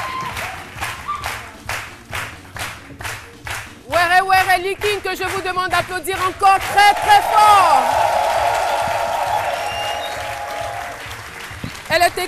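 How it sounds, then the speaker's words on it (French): A television studio audience claps in steady rhythmic unison, then breaks into louder applause with cheering and whoops while voices talk over it. "Were Liking, que je vous demande d'applaudir encore"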